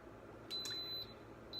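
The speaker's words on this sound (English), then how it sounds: "Beep beep beep says it's on." An Instant Pot pressure cooker gives short, clear electronic beeps as it starts up, with two distinct tones about a second apart over a quiet kitchen background.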